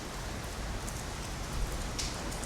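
Rain falls steadily at a barbecue with a charcoal grill, a soft continuous patter of drops on surfaces with no voices.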